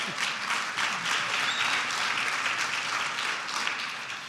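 Audience applause during community testimony about a neighborhood grocery enterprise, a steady wash of many clapping hands at moderate distance, continuous and fairly soft throughout.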